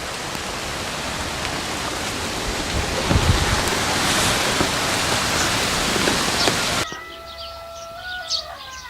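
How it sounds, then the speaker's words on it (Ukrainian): Wind and heavy rain at the start of a thunderstorm near alpine beehives, a loud continuous roar of gusts and downpour that cuts off sharply near the end, leaving quiet rustling. "Все, починається гроза, буду тікати."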